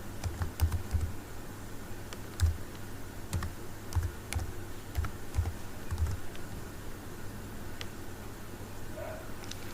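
Keys of a computer keyboard tapped in quick irregular bursts during web coding work, close and fairly quiet, with short pauses between runs of keystrokes.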